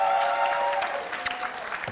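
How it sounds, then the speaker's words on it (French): Applause for university guests at a French-language televised show, a short burst of clapping at moderate level with a faint tonal hum underneath, thinning out toward the end. "On va applaudir très fort nos amis de Uni Abidjan qui sont là."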